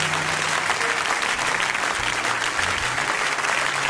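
A church congregation in a French-speaking service applauds together, with dense, steady clapping that fills the whole moment and carries a low murmur of voices underneath.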